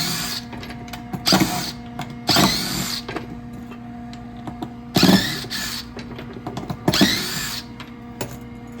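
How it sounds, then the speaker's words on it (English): A cordless drill or powered driver backs out the screws holding a BiltBest casement window operator, whirring in several short bursts of about a second each, separated by pauses, close and fairly loud. "So then you take a Phillips screwdriver, and there's 4 screws attaching this."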